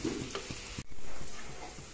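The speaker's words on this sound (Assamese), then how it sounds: "এইখিনি ভাজি অলপ ৰংচঙীয়া হ'বলৈ দিম সয়াবিনখিনি" Soybean chunks fry in a pan with salt and turmeric powder, giving a quiet, steady sizzle with faint stirring scrapes throughout.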